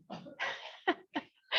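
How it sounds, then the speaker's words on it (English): A few short, breathy coughs burst out close up, spaced unevenly over a moment, with a rough throaty sound between them. "All right, Queen's cough."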